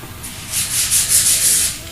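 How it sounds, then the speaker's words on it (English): Sandpaper rubbed over a crowned block to flatten it, a close, loud rhythmic scrubbing of about six back-and-forth strokes with no talking. "So now what I'll do is I'll sand it to where the graphics are pretty much flat."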